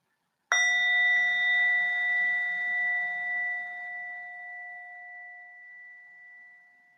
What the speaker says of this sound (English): And we'll begin with the sound of the bell.